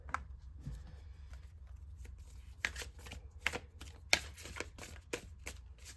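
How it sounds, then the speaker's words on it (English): A new tarot deck is shuffled by hand in quiet surroundings, giving soft, uneven bursts of riffling and card slaps in irregular rhythm, close but fairly faint. "These cards are kind of new, so I'm not shuffling them the best"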